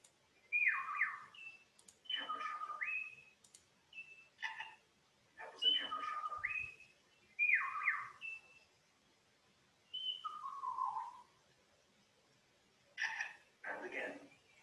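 A forest bird imitates the click of an older camera shutter, giving a string of short, bright chirped clicks and whistles in spaced bursts, close and clear against a quiet background.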